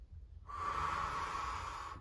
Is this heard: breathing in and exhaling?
yes